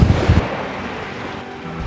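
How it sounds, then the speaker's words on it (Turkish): Sea waves break on a small beach, a loud close rush of surf with wind buffeting the microphone at the start, then easing into a steady wash with no talking. "dalgalar ayaklarıma doğru çarpıyor"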